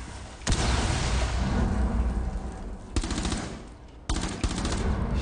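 Rapid bursts of automatic gunfire in the video game Rainbow Six Siege, ranked hostage mode on the Border map, come in loud close volleys with brief pauses between them.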